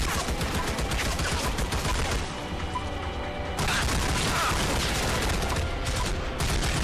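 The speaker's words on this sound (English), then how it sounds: "Where is he with his damn chain gun? I can hear it spinning up." Heavy weapon fire in the shooter Army of Two, dense sustained automatic shooting with mechanical clatter, briefly easing before resuming loud and close, no voices.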